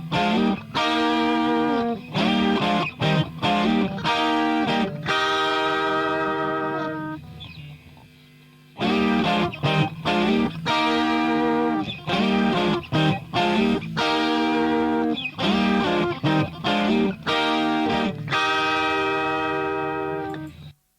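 Electric guitar through a G6 model of a Vox AC30 amp with distortion, loud and close, playing rhythmic chordal riffs with brief pauses, no voices.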